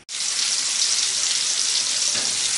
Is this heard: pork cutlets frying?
yes